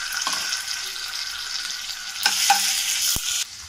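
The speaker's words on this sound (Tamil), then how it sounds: "ஒரு 1/2 ஸ்பூன் இஞ்சி பூண்டு பேஸ்ட் சேர்த்துக்கலாம்." Ginger garlic paste sizzling in hot oil in a pan, with cumin already in the oil, a steady close frying hiss punctuated by a few scrapes and clinks of a spoon stirring.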